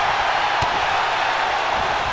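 A steady, loud roar rises from a wrestling arena crowd in WWE 2K20 in Dayton, Ohio. The broad cheering noise holds without breaks, with one faint thump partway through.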